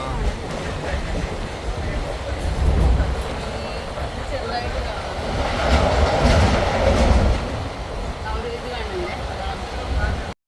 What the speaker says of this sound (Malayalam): താനാസ് സ്റ്റേഷനിൽ നിന്നും ഞങ്ങൾ വീട്ടിലേക്ക് പോകാൻ ഒരു ലോക്കൽ ട്രെയിൻ പിടിച്ചിട്ടാണ് പോരുന്നത്